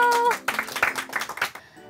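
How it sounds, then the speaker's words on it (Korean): A studio audience applauds on a Korean radio show, giving brief, close clapping that follows a voice and fades within a couple of seconds. "박수!"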